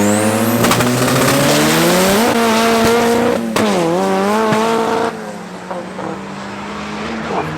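Drag racing cars roar down the strip at Tarlton International Raceway during a qualifying round, loud sustained engine howls climbing through the gears with shifting pitch, then fading slightly as the cars pull away.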